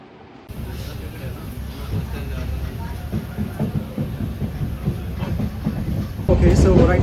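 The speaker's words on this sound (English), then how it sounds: "right now I'm in the train" Steady rumble and rattle of a train rolling along rails, a continuous low clatter that swells louder near the end.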